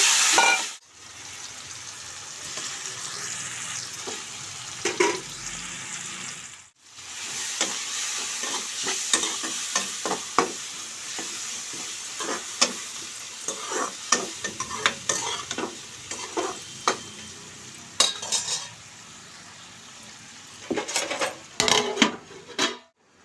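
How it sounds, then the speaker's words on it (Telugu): Steady sizzle of a masala curry frying in a pan, with repeated scraping and clinking of a spoon stirring against the metal throughout. "బాగా ఇలా ఎర్రగా ఫ్రై అవుతుంది కూర"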